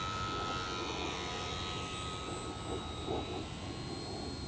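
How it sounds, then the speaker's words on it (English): An E-Flite P-51D Mustang 1.0m RC model warbird flies overhead, its electric motor giving a steady distant buzzing whine that rises and falls slightly throughout, with no talk. "Sport scale Warbirds like this Mustang fly slow so well."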